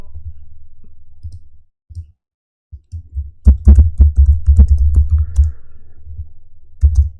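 Typing on a computer keyboard, close and fairly loud, with brief pauses followed by a quick run of clicking keystrokes and a few final taps, no speech.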